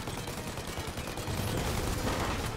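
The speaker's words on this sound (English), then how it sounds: "With this shooting, boy, we just gotta pray we hit whatever the hell we're trying to hit" Gunfire from the video game Mafia: Definitive Edition, aimed at an aircraft, comes as a dense, continuous rattle of shots that swells slightly louder toward the end, with no talking over it.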